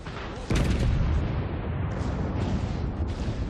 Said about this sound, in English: Now I turn left to use my left side torpedoes.